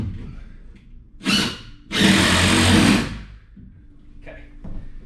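A power drill drives a bolt into a base during a home repair job. A short whir comes first, then a longer, louder sustained burst of about a second, with softer handling noise and faint movement around it.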